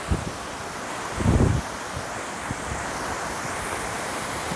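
Steady broadband rush of a stream flowing beneath a small trail bridge on the Appalachian Trail, constant and fairly close, with a brief louder swell of splashing or wind partway through.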